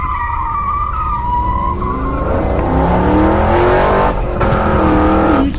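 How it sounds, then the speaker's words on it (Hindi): In the Free Fire video game, a car skids with loud squealing tires, then its engine revs and pulls away, the tire squeal and motor pitch sliding through several seconds with no talk. "ये चारों तो गाड़ी लेकर यहाँ से भाग रहे हैं"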